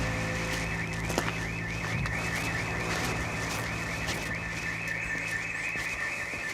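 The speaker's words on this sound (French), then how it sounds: "L'alarme qui s'est déclenchée" A house burglar alarm going off, a loud continuous warbling siren sweeping up and down without pause, heard over a dense steady background roar, with no voices.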